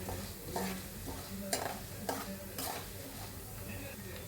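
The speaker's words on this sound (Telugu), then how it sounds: "ధనియాలు తొందరగా వేగిపోతాయండి" Coriander seeds and curry leaves roast in a dry pan for curry leaf spice powder, giving a soft sizzle with repeated scraping strokes of a spatula at an even, unhurried pace.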